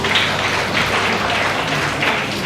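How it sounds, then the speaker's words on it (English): An audience at a college lecture-series event applauds with dense, steady clapping that carries on at an even level the whole time, with no voices over it. "please give her a big round of applause"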